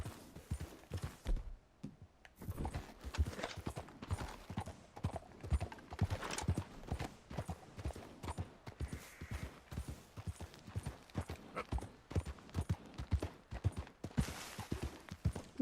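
Horse hooves clip-clop in a steady walking rhythm in the video game Red Dead Redemption 2, fairly close, with faint ambient background and no speech.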